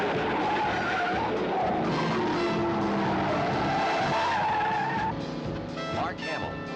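A stolen Corvette skids with long wavering tire squeals over a revving engine for several seconds, loud and close, with dramatic voices and music mixed in beneath.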